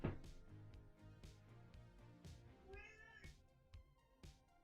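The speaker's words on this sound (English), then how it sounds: "What is she meowing about?" A female house cat meows over and over at close range, a run of drawn-out, tonal calls with short pauses between them and no other sound competing.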